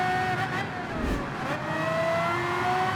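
A GT World Series race car in the Nations Cup, the X2019 driven by Carrazza, roars past with a steady high engine note and a brief swell of passing noise, with a commentator's voice faintly underneath.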